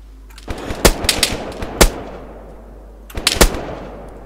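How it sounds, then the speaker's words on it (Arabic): Gunfire in DayZ crackles in sharp bursts, a quick string of loud shots early on, a lone crack near the middle, then another tight cluster after a short lull, all over a low steady hum with no talking. "Who's shooting?"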